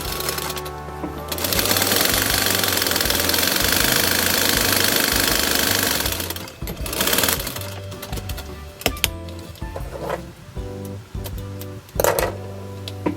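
A domestic sewing machine stitching a row of shirring with elastic thread in the bobbin runs steadily and loudly for about six seconds, then stops and starts in short bursts with clicks and handling noises.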